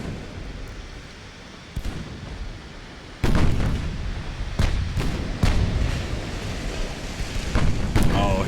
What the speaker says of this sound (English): These are some of my smaller guns right now firing on him.